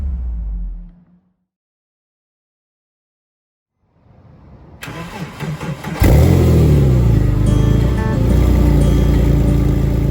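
After a brief silence, a rebuilt Porsche 911 engine with an overhauled exhaust cranks and starts, then idles loudly and steadily with a strong low rumble.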